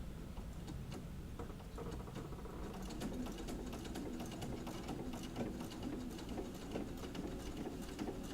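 A home sewing machine runs steadily with a fast, even needle patter while back stitching off the edge of fabric, then stitching forward, moderately quiet and close.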